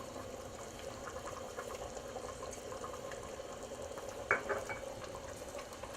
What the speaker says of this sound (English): It's boiling away here.